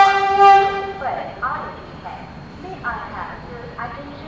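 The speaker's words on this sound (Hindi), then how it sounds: "वहाँ पर वंदे भारत एक्सप्रेस ओवरटेक कर रही है" A Vande Bharat Express overtakes at Vepanahalli railway station. A long train horn blares at the start, then the rumble of rolling rail cars continues as voices talk over it.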